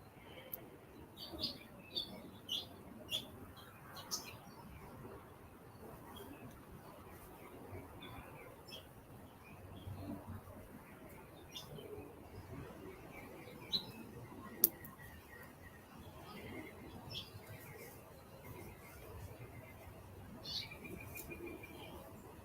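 Californian birds chirp outdoors with scattered short, faint tweets and calls over a low, steady background murmur.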